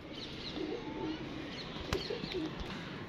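Soft, low pigeon coos repeat a few times against a steady background hum, with a brief sharp knock partway through.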